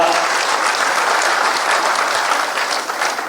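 Sustained, dense audience applause at a Maharishi Valmiki Prakatotsav samarasta gathering in Bhopal, greeting Umesh Nath Ji Maharaj; steady, loud clapping fills the whole moment without a break.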